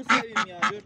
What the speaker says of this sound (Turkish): dört tane Pekin ördeği beyaz